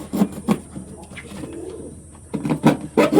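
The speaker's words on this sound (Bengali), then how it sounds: "এখন পায়রা দুটোকে ভেতরে ভরবো" Blue Bar Lahori pigeons coo in low, repeated throaty bursts close by, rising and falling over a few seconds with some faint background noise.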